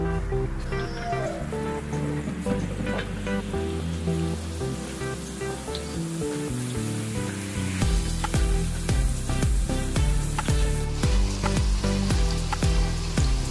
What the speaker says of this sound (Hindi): अभी इसको हम तलेंगे।